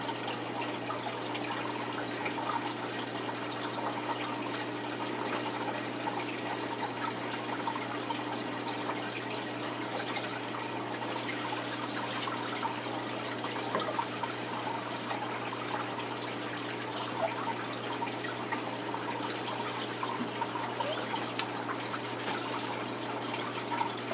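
A hose fills a gudgeon aquarium tank, making a steady, even rush and trickle of water that continues unbroken without any talk.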